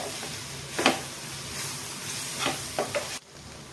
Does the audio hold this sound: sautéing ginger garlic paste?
yes